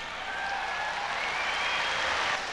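Steady, dense applause from a large arena crowd welcoming the Terrier group into the ring at the Westminster dog show, sustained throughout with faint whistles rising above the clapping.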